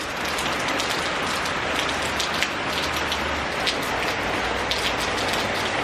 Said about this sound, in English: It's that kind of tropical warm rain.